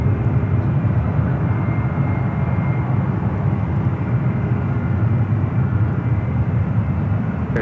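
A Breeze Airways Airbus A220-300 arriving at San Francisco International Airport, a steady, loud broadband engine roar that holds evenly throughout with no talk over it.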